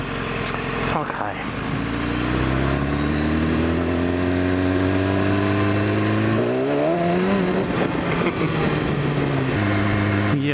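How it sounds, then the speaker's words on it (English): BMW S1000RR superbike (2015) riding on a rough gravel country road, its engine droning steadily with rising and falling pitch as it accelerates, continuous and close throughout. "superbike gravel road"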